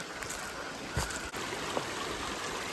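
A mountain stream runs along the Nag Tibba trek in the Himalayan foothills, a steady broadband rush of flowing water with a few faint knocks and splashes.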